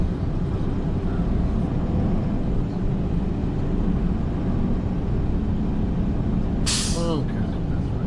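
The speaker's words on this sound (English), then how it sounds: "we're gonna just drive up and down this road at just how I would normally drive and see if we get much spin going" A vehicle drives on a steep gravel road, with a steady, loud engine rumble and tire noise throughout and a short hissing, squealing burst near the end.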